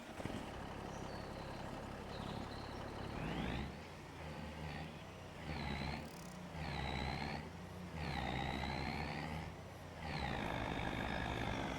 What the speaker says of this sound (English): Gotta find my water truck.